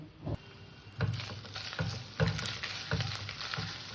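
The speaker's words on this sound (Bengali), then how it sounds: "মশলাটাকে নাড়া চাড়া দিয়ে তেলের সাথে মিশিয়ে দিলাম" Masala spices fry in oil while being stirred for a banana-blossom kofta curry, with a faint steady sizzle broken by several soft rhythmic scraping strokes of a spoon against the pan.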